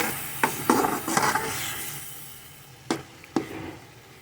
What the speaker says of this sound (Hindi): अभी हम इसमें ऐड करेंगे बैंगन का भुर्ता। और ये हम अच्छे से साफ़ करके इसी में डाल देंगे और अभी इसे अच्छे से मिक्स करेंगे।